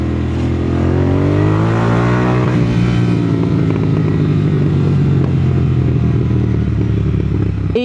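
A Royal Enfield Continental GT 650 twin-cylinder motorcycle engine revs loud and close, rising in pitch then settling into a deep, steady throbbing idle with no talking.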